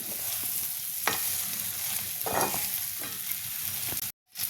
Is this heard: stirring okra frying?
yes